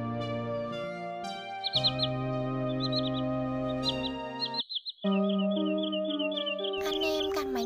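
Common greenshank calls, repeated clear whistled chirps in short bursts over steady tonal background hum, fairly close and alone without speech, with a brief gap midway.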